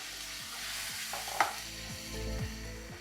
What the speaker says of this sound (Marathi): फोडणी कराल तेव्हा वेगळा आवाज